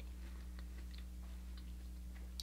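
A green grape is crunched and chewed close to a microphone, a few faint, crisp bites and wet chewing clicks over a low steady hum.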